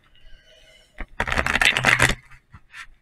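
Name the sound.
shuffling tarot cards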